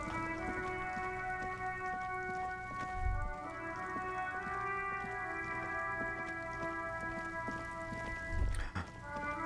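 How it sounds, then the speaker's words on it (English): Rain falls in the video game Disco Elysium, a steady soft patter running beneath sustained tonal music, with a couple of low thuds. "Raining."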